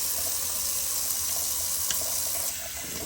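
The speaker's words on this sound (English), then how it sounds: "Cold water rinse." Cold tap water runs steadily into a bathroom sink for a face rinse during shaving, a constant close hissing splash with small splatters and no talk.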